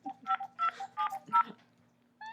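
A telephone keypad sends a quick run of about four dialing tone bursts, clear and close, followed by one more tone after a short pause.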